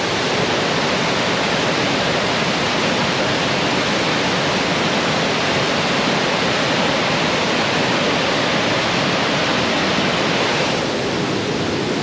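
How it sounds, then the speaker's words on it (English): Floodwaters pour over a swollen waterfall at Mount Tamborine after extreme rain, a loud, unbroken roar filling the whole clip at close range with no voices audible. "I don't know if you can hear me because the waterfall's so loud"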